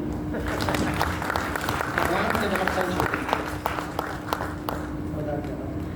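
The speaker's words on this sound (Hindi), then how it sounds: "उन लोगों को जोरदार ताली।" An audience claps together, a dense and steady patter of many hands that carries on for several seconds inside a training session hall, with some voices mixed in.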